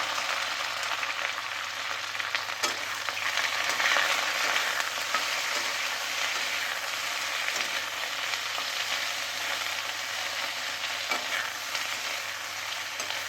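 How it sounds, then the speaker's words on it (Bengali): Okra frying in hot mustard oil in a pan, a continuous bright sizzle with occasional scrapes and taps of stirring, close and steady without speech. "তারপরে তেলটা গরম হওয়ার পর ঢ্যাঁড়স দিয়েছি, দিয়ে ঢ্যাঁড়সগুলো ভালো করে ভেজে নেব।"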